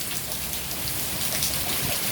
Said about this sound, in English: The rain is getting a lot heavier.